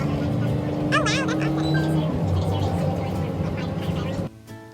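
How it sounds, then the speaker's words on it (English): Steady low engine rumble and road noise inside a moving city bus, continuous and fairly loud throughout, with a brief squeal and a voice heard over it. "Now we are just riding on the bus."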